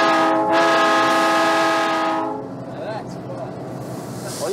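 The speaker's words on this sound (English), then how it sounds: "As the train started forward, I got to blow the whistle." A train whistle blows loud and sustained for about two seconds as the train starts forward, then gives way to rumbling movement and faint voices.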